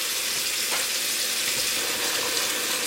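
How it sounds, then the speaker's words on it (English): Cold tap water pours steadily into a cooking pot of hot boiled eggs, a dense continuous rushing splash that stays loud and even throughout. "start running cold water in it"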